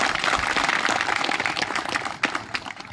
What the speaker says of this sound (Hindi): भाई चंद्रशेखर आजाद जी के लिए एक बार जोरदार ताली से स्वागत और अभिनंदन करें